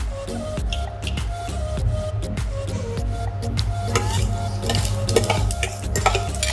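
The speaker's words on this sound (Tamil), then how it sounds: "இப்போ அந்த கடுகையும் வெந்தயத்தையும் போட்டுக்கலாம்." Mustard seeds and fenugreek spluttering in hot oil in a kadai while cooking pachai mochai kuzhambu, with a sizzling bed under scattered sharp pops and crackles that keep going throughout, close and fairly loud.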